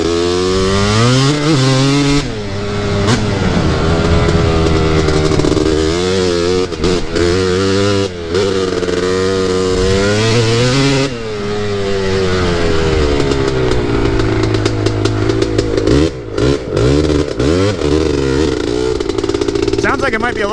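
A Predator 560 big bore engine, running slightly rich, revving hard and loud up close, its pitch climbing and falling through repeated throttle blips with sputtering cuts between, over a span of about twenty seconds.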